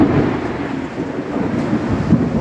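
Thunder during a heavy rainstorm rumbles low and continuous beneath a steady hiss of rain, a dense, fairly loud wash of sound with no talking.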